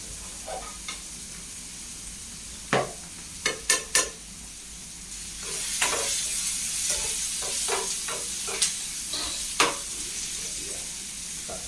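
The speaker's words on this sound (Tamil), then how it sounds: "வெங்காயம் நல்லா வதங்கட்டும். நல்லா வதங்கி வருது." Onions sautéing in a pan for a spinach sambar: a soft sizzle broken by several sharp spatula clanks and scrapes, then a louder, hissing fry swells up with more scattered stirring knocks.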